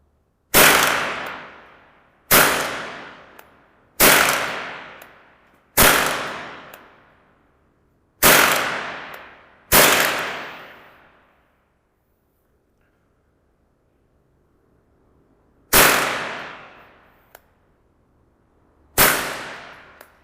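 Remington Nylon 66 polymer rifle firing, eight sharp loud cracks, each with a decaying ring, spaced irregularly, with a long quiet pause in the middle before the last two shots.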